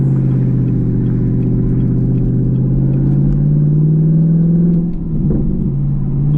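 A Chevrolet Camaro cruising with an MRT off-road H pipe exhaust, a deep, steady low drone that holds loud and constant from inside the car, with a brief dip near the end.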